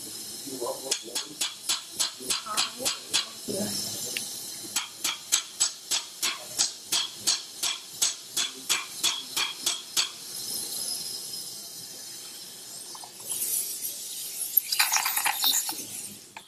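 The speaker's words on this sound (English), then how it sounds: "Hammer, please." A surgical hammer strikes repeatedly during acetabular revision hip surgery, dozens of sharp, evenly spaced metallic taps in a steady rhythm, followed by a pause and then a hissing burst with a few more strikes.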